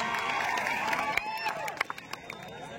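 Crowd at a kabaddi quarter-final match between Kolkata Police and South Central Railway claps and cheers, a busy roar with sharp claps and shouts rising toward the end.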